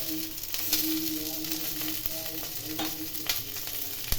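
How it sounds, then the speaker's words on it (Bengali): Ground coriander and chili powder fry in hot oil in a pan, giving a steady close sizzle with occasional stirring scrapes. "এগুলো একটু ভেজে নেব। এর মধ্যে দিয়ে দিলাম ধনে গুঁড়ো"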